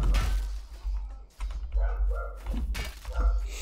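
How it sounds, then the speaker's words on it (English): A dog barking next door, picked up faintly behind loud Chivalry 2 game audio with clashing hits and thuds; a few short barks come through in the mix. "Sorry about the dog next door as well."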